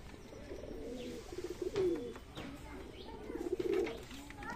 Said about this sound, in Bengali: আর এই যে আবার এই কালা সবুজের বাচ্চা জোড়া সেই ডাকাডাকি করছে।